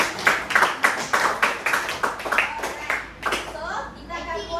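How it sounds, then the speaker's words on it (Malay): A group of children claps in a steady rhythmic pattern in a classroom, about a dozen even beats, close and fairly loud, with children's voices at the end. "Tepuk tangan."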